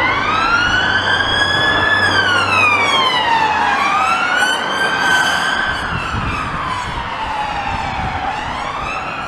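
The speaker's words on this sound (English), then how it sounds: "Siren coming." An emergency vehicle siren wails loud and close beside a park road, its tone rising and falling in long sweeping cycles as it passes, with steady traffic rumble underneath.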